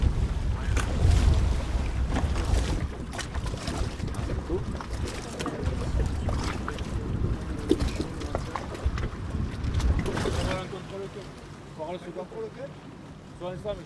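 An engine on a boat at sea rumbles loudly alongside the splash and rush of water and wind. The noise churns steadily before easing toward the end, and voices can be heard faintly over it.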